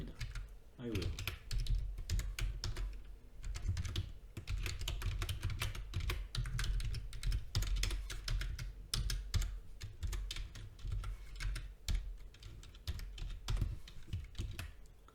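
Java code is typed on a computer keyboard, with quick, irregular key clicks and clacks running continuously and close, soft overall, with a faint voice now and then.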